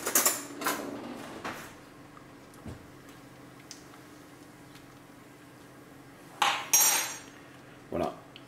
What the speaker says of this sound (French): On va légèrement mélanger le sachet de thé.